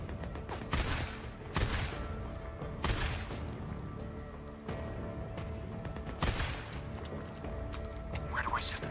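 Bursts of gunfire in the Days Gone video game, fired at a barrel that fails to explode, with several sharp volleys over a steady game background and occasional speech.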